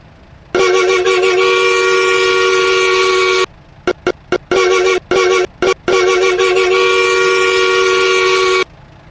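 Kenworth T800 truck air horn blasting loud and close: one long sustained blare, then a rapid string of short toots, then another long blast.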